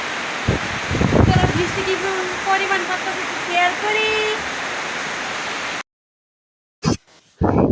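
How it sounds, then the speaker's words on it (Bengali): Heavy rain pouring down in a steady broadband hiss, with a voice talking over it and a few close knocks before the sound cuts out near the end. "এমন বৃষ্টি নামছে দেখো বৃষ্টি অতিরিক্ত নামছে"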